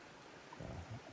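A small mountain stream on the Appalachian Trail runs with a steady, soft wash of water and faint gurgles, heard quietly from nearby with no voices.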